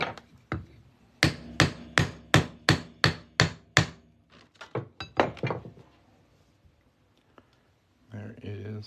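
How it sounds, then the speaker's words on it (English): Sharp metallic ball-free hammer strikes on a 2023 quarter being shaped into a coin ring ring out in a steady series of about eight even blows, then a few irregular taps, followed by a brief voice. "we're just going to hammer that right on through"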